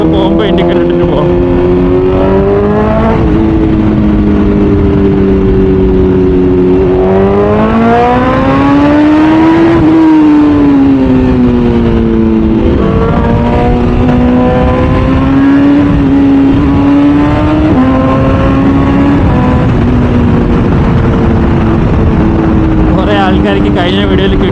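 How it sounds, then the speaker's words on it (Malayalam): Superbike engine revving hard and loud through a continuous stretch, its pitch climbing and dropping repeatedly as quickshifter gear changes cut in, heard from the rider's position in traffic with steady wind and road noise underneath. "ആൾക്കാർക്ക് കഴിഞ്ഞ വീഡിയോയിൽ ക്വിക്ക് ഷിഫ്റ്റിനൊക്കെ സൗണ്ട് കേൾക്കണമെന്ന് പറഞ്ഞായിരുന്നു. അതുകൊണ്ടാണ് ഞാൻ ചുമ്മാ ഗിയർ മാറ്റുന്നത്."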